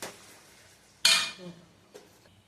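A spoon stirs egg in a pan on a stove over medium flame while cooking egg rice, giving one sharp scraping clink followed by a softer scrape and a faint tap, with quiet kitchen background.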